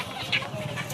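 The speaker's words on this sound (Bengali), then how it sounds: "এটা কি মুরগি কাকা?" A chicken at a village poultry market in Nagarpur, Tangail, where ducks, chickens and pigeons are sold, gives a short, sharp cluck over a steady hum of market noise.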